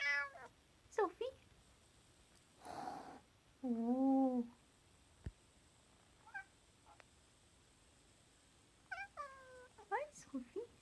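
A cat meows repeatedly in short, close, rising calls, with a soft purr and quiet gaps between bursts; a faint voice is also present.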